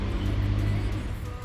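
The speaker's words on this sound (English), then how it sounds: "Sorry about the truck noise." A truck's engine rumbles nearby as a steady low drone lasting the whole short stretch, heard while work goes on fitting a front bumper to a 2017 Toyota Tacoma.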